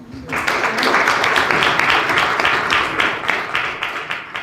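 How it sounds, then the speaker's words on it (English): An audience at a book discussion event applauds steadily, with dense overlapping clapping that rises quickly and holds for several seconds before thinning slightly. "let's give a round of applause"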